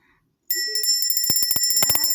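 A notification bell sound effect rings out after a brief silence, a bright, sustained ringing struck several times in quick succession, loud and close, with no talking.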